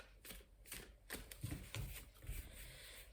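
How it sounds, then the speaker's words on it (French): Tarot-style oracle cards, a mirror oracle deck, are shuffled and laid out for a nine-card spread: soft papery riffles, slides and light taps at close range, quiet and unhurried. "Nous allons procéder à l'oracle des miroirs. Alors nous allons faire un tirage de 9 cartes"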